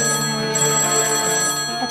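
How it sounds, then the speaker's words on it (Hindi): A telephone rings indoors, a loud, sustained electronic ringing tone with steady harmonic bell-like tones filling the moment. "ये फोन भी तेरी ताईदी की तरफ बजे जा रहा है।"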